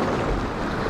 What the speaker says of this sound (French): il y a des vagues qui montent quand même pas mal là